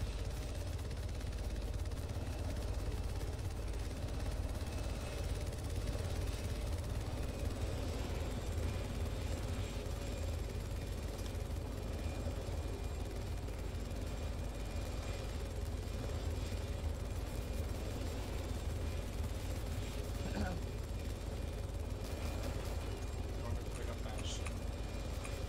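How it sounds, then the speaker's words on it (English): A helicopter engine in the video game Arma 3 drones steadily and loudly throughout, a constant low rumble with faint voices murmuring beneath it. "I'm right below the helicopter bus."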